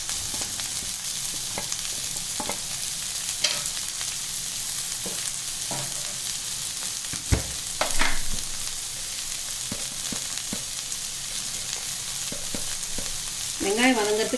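Onions and green peas sauté in a pan of oil with steady broadband sizzling, and a few scattered spoon scrapes and taps break through the constant frying hiss, close by and with no voices.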